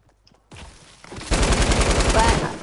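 Rapid bursts of automatic gunfire from the Fortnite video game, a sparse shot first, then a loud sustained stream of shots that fills the second half with a steady rattling rhythm.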